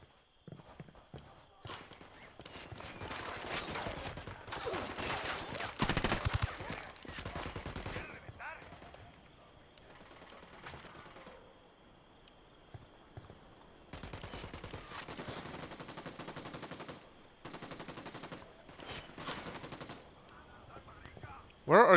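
Bursts of video game gunfire from a tactical shooter set in Bolivia, with rapid clattering volleys that come and go at moderate loudness, mixed with player voices talking over them.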